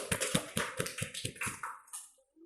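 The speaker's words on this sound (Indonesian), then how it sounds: "Kita beri tepuk tangan dulu untuk kelompok 2." Classroom applause for a student group, a handful of close, rhythmic hand claps that thin out and stop near the end.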